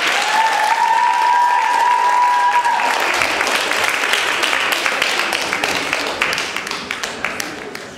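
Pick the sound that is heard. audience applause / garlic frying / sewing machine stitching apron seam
audience applause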